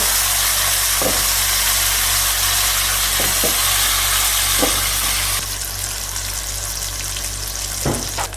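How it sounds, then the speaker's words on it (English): Ginger paste fries in a pan for a garlic chilli mixed vegetable dish, giving a loud, continuous close-up sizzle with a few soft clinks and scrapes and a slight drop in intensity partway through. "add ginger paste and fry it until all the raw flavors are gone"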